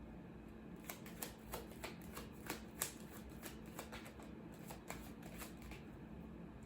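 Tarot cards being shuffled and picked make a soft, rapid run of light clicks and riffles over a low steady background hum, fairly faint and without talking.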